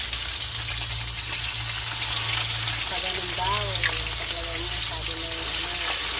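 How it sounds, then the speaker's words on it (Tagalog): Galunggong fish frying in oil in a pan makes a steady, dense sizzle throughout, with a person briefly talking over it partway through. "So, magpiprito tayo."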